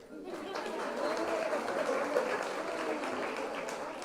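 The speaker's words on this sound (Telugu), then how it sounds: "కొట్టండి క్లాప్స్" An audience at an Arya Vysya women's devotional gathering claps steadily for several seconds, a dense, even wash of applause with crowd chatter mixed in.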